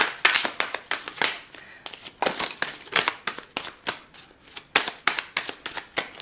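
Tarot cards shuffled by hand in quick bursts of riffling and slapping, close and crisp, repeating in rhythmic clusters with brief pauses between them and no voices.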